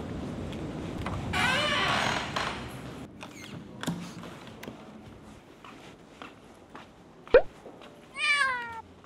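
A cat meows in a women-only waxing shop, a clear rising meow near the end after some footsteps and soft thumps in a quiet room.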